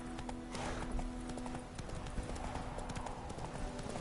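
Roach's hooves in a PS4 game, clip-clopping in a quick, even rhythm over ambient game sound, clear and sustained across the whole short stretch.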